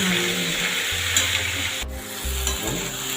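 Mixed vegetables with dried red chilli and bay leaf stirred in a frying pan, a steady sizzle with scraping spoon strokes and a few louder clunks, close and continuous with no talking.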